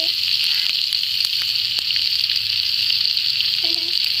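Onions and dried vattal crackle and spatter steadily in a tiny miniature cooking pan, a close continuous sizzle with a brief sharper pop near the end.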